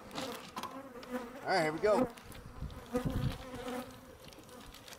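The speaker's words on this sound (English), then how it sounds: "These are definitely Africanized bees, especially the amount of honey they produce." Africanized honey bees swarm from a large hive exposed inside a roof soffit, giving a steady insect buzz beneath a voice, which rises briefly to speak.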